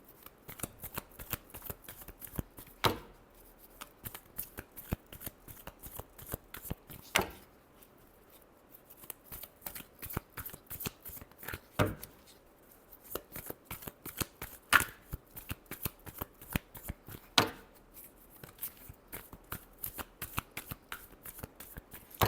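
Tarot cards being shuffled by hand, a steady stream of crisp riffling clicks with periodic louder snaps, close and alone without talk.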